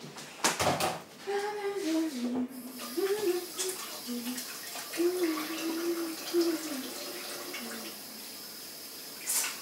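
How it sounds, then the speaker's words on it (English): A tap runs while hands are washed at a kitchen sink, a soft hissing spray under a voice humming a wandering tune, with a few knocks and clatters. "I need to wash my hands"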